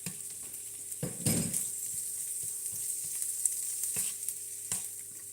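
Daikon and shallot sizzle steadily in a hot pan over a continuous bright frying hiss, with a few louder stirring scrapes and light clinks of a utensil against the pan.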